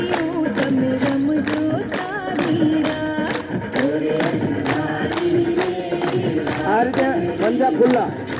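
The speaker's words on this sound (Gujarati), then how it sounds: "બંને હાથમાં નાભી પાસે જોરથી તાળી મળવાની છે" Loud hand claps struck together in front of the navel during weight-loss yoga aerobics, landing on a steady, even beat over sung music.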